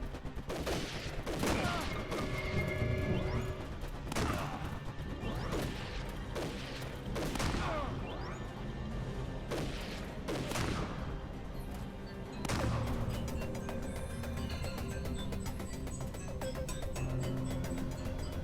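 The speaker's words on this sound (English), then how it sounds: "Sarge is hip firing the shotgun into the wall." A shotgun is hip-fired into a wall in Army Men: Sarge's War, with repeated loud blasts at irregular intervals every second or two over steady background game noise and music.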